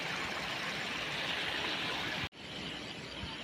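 Water rushes steadily beneath a bridge, a dense continuous wash that holds level, cuts out abruptly for an instant, then resumes slightly softer.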